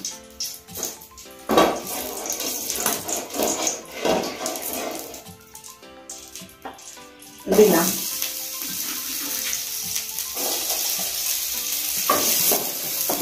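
Onion fries steadily in ghee in a pan with a continuous sizzle, broken by occasional stirring scrapes and clatters, and then turns louder partway through.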